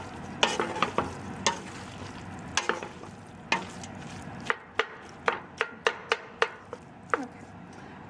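Tofu scramble with bell pepper and onion stirred in a pan, a quick series of sharp spatula taps and scrapes against the pan over a soft sizzle.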